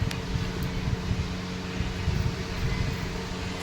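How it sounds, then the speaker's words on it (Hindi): Home air cooler running with a steady, loud whooshing fan roar and a faint low hum, continuous and unchanging throughout with no talking. "कूलर चल रहा है"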